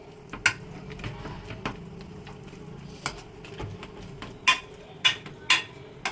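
A masher presses and smashes fried gongura leaves in a metal pan, giving scattered sharp clinks and taps against the pan with a soft background hum.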